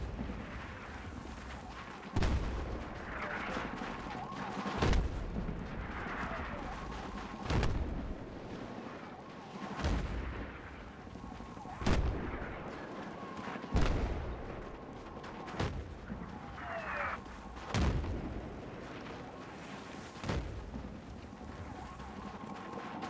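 Mortar and artillery fire in the video game Battlefield 3: loud booming blasts about every two to three seconds over a constant rumbling battlefield backdrop, with no speech.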